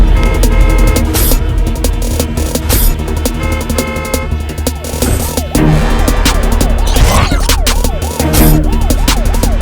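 An ambulance siren wails in repeated sweeping tones amid loud, dense traffic, layered with blaring music and other street noise throughout.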